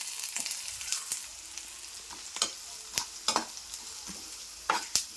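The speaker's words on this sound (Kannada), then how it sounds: "ಈರುಳ್ಳಿ ಸ್ವಲ್ಪ ತುಂಬ ಚೆನ್ನಾಗಿ ಫ್ರೈ ಆಗೋ ತನಕ ನಾವು ಇದನ್ನು ಬಾಡಿಸ್ಬೇಕಾಗತ್ತೆ ಬಾಣಲೆಯಲ್ಲಿ" Onions sizzle softly in hot oil in a pan for chicken pepper dry while a spatula scrapes and clacks in irregular strokes, close and fairly quiet, with no speech.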